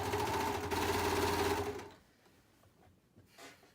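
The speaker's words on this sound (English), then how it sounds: "as I'm sewing around, I'm gonna be tugging the waistband, stretching it to match the width of the body" A sewing machine stitches a hoodie waistband in a fast, close, continuous whir that stops abruptly after about two seconds, leaving quiet handling noises.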